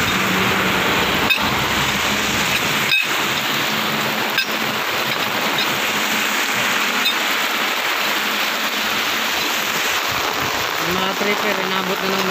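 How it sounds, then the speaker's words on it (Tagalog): Heavy rain pours down steadily outdoors, a dense continuous hiss with a few sharp knocks and thuds, while a voice talks briefly over it. "Ang lakas ng ulan."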